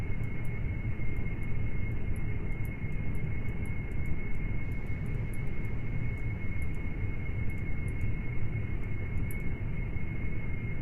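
Airplane landing with brakes on and spinning around in Kerbal Space Program, heard as a loud, steady broadband engine-and-wind drone that holds unchanged for the whole stretch with no distinct impact.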